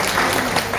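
Applause from a gathered audience at a public meeting greets a speaker, a short dense patter of many hands clapping, steady and moderately loud with no clear individual claps standing out.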